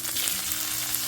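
Bombay duck (bombil) fish fry on a hot tawa with a steady, dense sizzle and crackle, close and continuous, with no voices.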